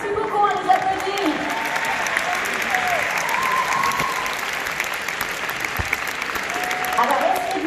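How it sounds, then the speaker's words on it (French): A cinema audience at a film premiere in a large Paris theatre applauds, a full, continuous wash of clapping mixed with cheering voices and a few whoops that lasts the whole stretch. "on les applaudit"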